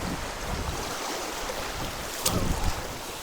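Steady outdoor wind buffeting the microphone, a constant broadband rush with a brief louder gust near the end, and no talking.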